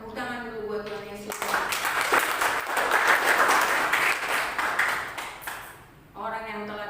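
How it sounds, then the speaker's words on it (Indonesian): Church congregation applauds in a sustained burst of clapping lasting several seconds, with a preacher's voice heard just before and after. "Tepuk tangan dulu buat Tuhan Yesus."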